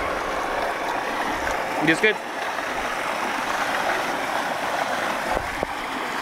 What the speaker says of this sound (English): We have this tube well. Water comes from this tube well